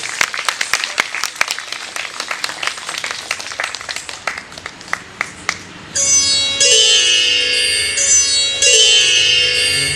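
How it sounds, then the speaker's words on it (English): After an Indian classical dance performance, an audience claps in loose, sparse bursts for several seconds, then a loud sustained musical accompaniment starts and fills the rest. "So can we have a huge round of applause for Atrik?"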